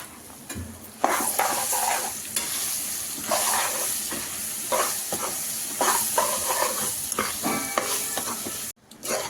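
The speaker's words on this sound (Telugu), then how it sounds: "బాగా ఫ్రై అవుతున్నప్పుడు మనం తురిమి పెట్టుకున్న ఒక మామిడికాయ వేసేసుకోవాలండి." Grated raw mango stirred into hot oil in a pan for mango rice, with a steady loud sizzle and repeated scraping strokes of the spoon running throughout, briefly cutting out near the end.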